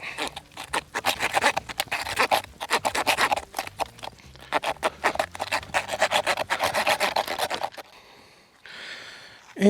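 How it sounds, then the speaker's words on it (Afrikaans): A hand saw cuts through a goat's leg bone during a hunt butchery, giving fast, rhythmic rasping strokes up close. It pauses briefly and then resumes, with a short scrape near the end. "kom ons saag gou deur hierdie been hier agter"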